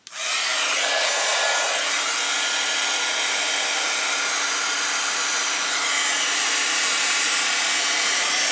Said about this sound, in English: I'm going to heat this up, and then I'm going to apply some heat to this.